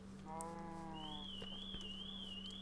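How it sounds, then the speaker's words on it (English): Horse noises from the video game Minecraft in a survival world: a short whinnying neigh with a stepped, falling pitch, then a long wavering high tone over a steady low game hum, with no talking. "Ooh, some horses."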